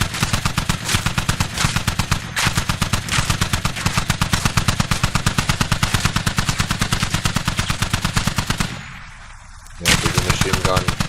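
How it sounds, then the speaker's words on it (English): A heavy machine gun fires long, rapid bursts in a close-quarters round at Al Basrah in a military shooter game, with loud, tightly spaced shots punching through a wall. A short gap near the end breaks the firing before it resumes. "big machine gun going straight through the wall"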